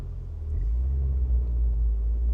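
2000 BMW E39 M5 engine while driving, a deep steady low rumble heard from inside the car, fairly quiet and continuous.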